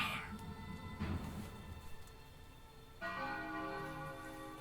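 Chimes from the Zelda Ocarina of Time video game ring out as bell-like tones: one struck near the start and another at about three seconds, each bloom fading slowly over a soft ambient bed.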